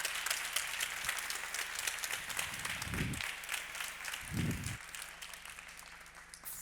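Steady round of applause from a conference audience at a commercial dispute resolution event, continuous clapping fairly far off and moderately faint, with a couple of low thumps partway through.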